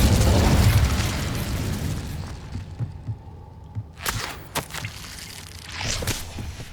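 In the game Hogwarts Legacy, the Incendio fire spell goes off in a loud, heavy whooshing burst that fades. Several sharp crackling pops follow, along with a last swell of rumbling.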